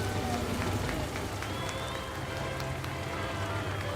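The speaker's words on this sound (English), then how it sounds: "As they come out onto the porch, it is raining." Steady rain from a wedding-day scene in an audio drama pours down as a couple steps out onto a porch, a dense, even hiss that fills the whole clip with no pauses.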